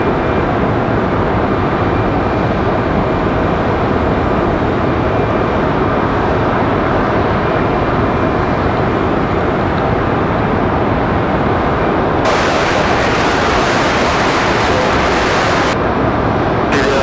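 A Boeing 737-9 airliner at Raleigh Durham airport, a loud continuous engine rumble and roar that holds steady throughout, with a brief burst of brighter hiss near the end.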